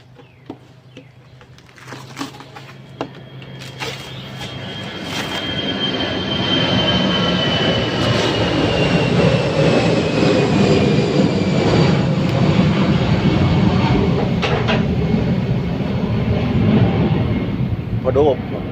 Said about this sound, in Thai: พอดีว่าบ้านใกล้สนามบินนะบ้านผมใกล้สนามบินครับ เสียงเครื่องบินเข้าครับ